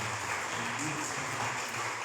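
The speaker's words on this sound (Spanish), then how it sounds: "¿Qué tal si le damos un aplauso a Cristo por lo que Él hizo por nosotros?" A church congregation claps together in a continuous, dense wash of applause that fills the room for a couple of seconds, with no pauses.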